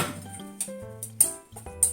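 Cabbage and chikuwa side dish, spiced with doubanjiang and garlic, being served onto plates: a few close, bright clinks of utensil against dish spaced across two seconds, with low kitchen hum between.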